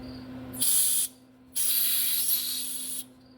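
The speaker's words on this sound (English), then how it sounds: "I squirt a little brake cleaner in there because it's full of PB blaster at the moment." Brake cleaner sprayed from an aerosol can into bolt holes on an exhaust manifold, heard as two loud, close hissing bursts, one short and one longer, with a quiet pause between them.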